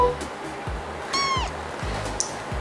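Stray kitten about two weeks old, found in the rain, giving one clear high rising meow partway through, close and fairly loud, over a steady background hiss with low rhythmic thumps.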